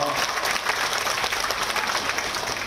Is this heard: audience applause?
yes